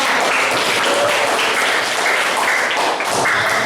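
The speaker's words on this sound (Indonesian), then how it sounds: "Tepuk tangan untuk saya." Classroom applause after a student's presentation on material elasticity, a dense, steady wash of many hands clapping loudly for nearly four seconds with no talk over it.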